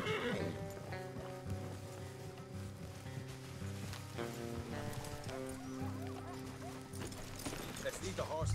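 Horses neigh and whinny among clopping hooves in Red Dead Redemption 2 video game, close and loud, with several voices talking over the animals.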